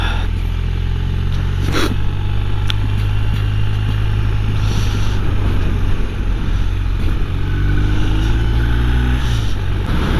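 A 2022 BMW R1250R motorcycle engine drones loud and continuous on a test ride, a steady low hum with wind noise, its pitch rising briefly near the end.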